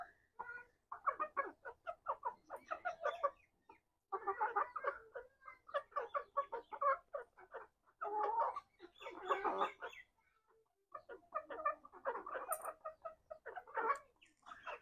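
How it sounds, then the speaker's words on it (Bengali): Chickens inside a coop clucking busily as they eat feed, with dense bursts of close, overlapping clucks broken by short pauses. "দেখুন মুরগিগুলো খুব খায় এগুলো।"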